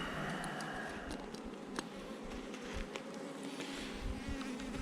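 Bees buzz around a hive of an oddly behaving colony, a dense close hum with the sharper whine of single insects passing near, and occasional small taps and ticks.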